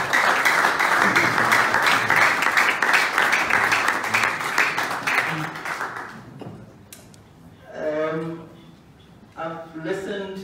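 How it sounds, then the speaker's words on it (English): Audience applause at a townhall gathering: dense, loud clapping from a large crowd for about six seconds, then fading to scattered claps as voices begin speaking. "Let's give him another round of applause."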